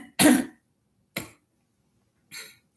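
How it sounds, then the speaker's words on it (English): Three short throat clearings, a loud one followed by two softer ones spaced about a second apart, close to the microphone. "Excuse me while I clear my throat."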